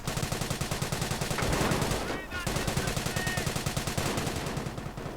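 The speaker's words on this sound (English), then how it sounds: "the Bren guns firing away merrily at the Panzer Grenadiers" Bren machine guns in a World War II video game fire in rapid, steady automatic bursts, loud and close, with a short gap midway before the rattling resumes.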